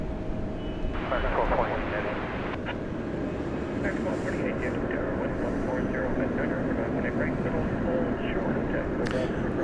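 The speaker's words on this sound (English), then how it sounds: "Another plane is about to touch down." An American Airlines passenger jet landing at DFW Airport at night sends out a broad, sustained engine roar that holds fairly loud for the whole stretch, with faint scattered background noises on top.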